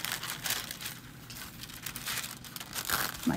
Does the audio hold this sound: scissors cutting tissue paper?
yes